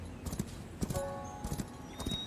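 Horse hooves clip-clop in a steady rhythm with a short neigh partway through, from a horse in the Where Winds Meet game trailer, close and fairly clear.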